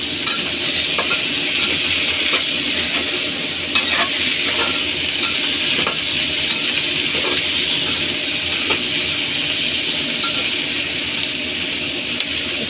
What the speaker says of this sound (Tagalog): igisa na natin ang carrot at ang hampok nito